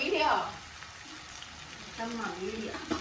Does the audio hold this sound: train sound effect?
no